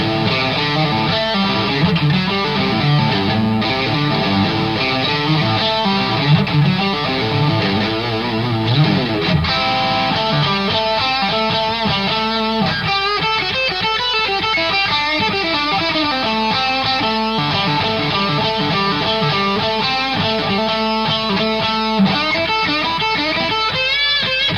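A heavily overdriven electric guitar through the classic channel of a BluGuitar Amp1 plays a continuous, sustained lead line with thick distortion, loud and close, with no voices.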